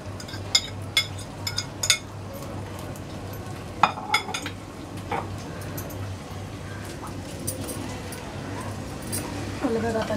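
A spoon scrapes and clinks against a pot while sweet coconut rice, narali bhat, is gently mixed, with scattered metallic taps and faint stirring under steady talk in Marathi and a low background hum.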